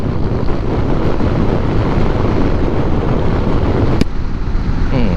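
Wind rushes loudly into a car through an open window during heavy rain at night, a steady roaring buffet with low rumble and a brief sharp knock near the end.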